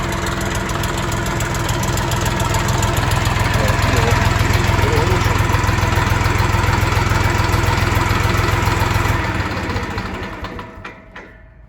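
A small 24-horsepower Skaut TY-254 tractor engine idles steadily with a low, chugging rumble, loud and close, then cuts off near the end as the sound dies away.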